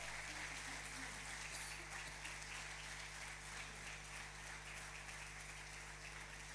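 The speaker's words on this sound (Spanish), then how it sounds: "Damos un aplauso fuerte al Señor en esta mañana." A church congregation at a morning service applauds the Lord with steady, sustained clapping, faint and distant, over a low hum.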